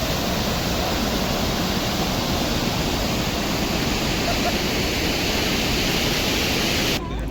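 The Mothugudem waterfall roars as a loud, dense, unbroken rush of falling water, heard up close until it cuts off abruptly near the end.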